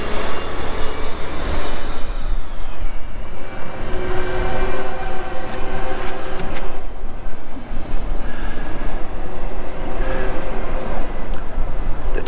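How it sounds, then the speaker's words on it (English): A train runs along a river past a bridge, its loud continuous rumble and steady rolling wheel noise filling the whole stretch, with faint squeals drifting over the top. "Train is just following the river here, disappearing under the spring bridge."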